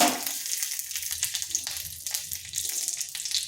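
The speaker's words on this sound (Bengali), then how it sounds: "দিয়ে দিচ্ছি 2টো কারি পাতা" Curry leaves crackle and sizzle in hot oil for a chutney tempering, a dense steady frying hiss with small pops and stirring scrapes, close and loud without talk.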